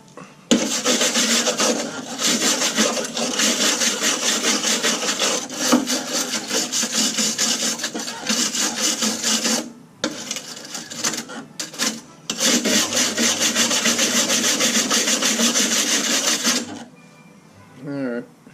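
Steady, loud rasping and scraping of metal on a rotted-out push mower deck, stroke after stroke, with brief pauses and a quieter tail at the end.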